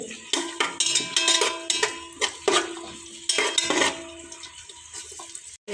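A spoon scrapes and clinks in a cooking pot of onions and green chillies in quick irregular strokes, with a soft sizzle between them and no talking.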